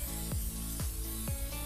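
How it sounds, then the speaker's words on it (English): A steady hiss of butter spray onto breadstick dough, soft and continuous, with faint tonal sounds running underneath. "we're going to take our butter spray"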